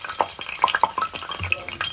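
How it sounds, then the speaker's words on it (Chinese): Dough snack pieces deep-fry in hot oil with close, busy crackling and popping bursts, an irregular sizzle that fills the short stretch without talk. "我们把这个放到里面炸一下。"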